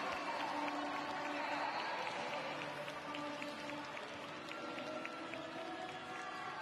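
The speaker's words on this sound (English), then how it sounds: "Kang, well, she's getting a lot of sympathetic applause." A crowd at a short track speed skating 1000m race gives sympathetic applause, a moderate, steady patter of clapping with scattered cheering carried faintly across the rink.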